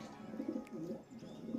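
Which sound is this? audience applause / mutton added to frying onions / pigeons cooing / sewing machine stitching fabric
pigeons cooing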